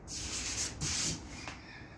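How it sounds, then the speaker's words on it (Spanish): Sandpaper rubs against the metal body of a 2006 Toyota Tacoma PreRunner in short, close, hissing strokes, two or three passes in quick succession. "y ya la estamos lijando"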